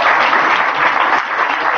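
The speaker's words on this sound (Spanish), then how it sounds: "Por favor, les pido un aplauso para recibir a Federico Coelho" Audience applause welcoming a guest speaker at a film criticism and journalism panel in Cuenca, a loud, dense burst of clapping that stays steady throughout the short span.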